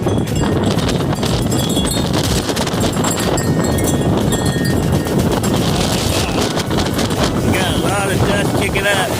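Strong wind gusts of over 50 mph roar steadily and loudly against the microphone outdoors, blowing dust, trash cans and lawn furniture around, with faint clattering and knocking under the constant rushing buffet.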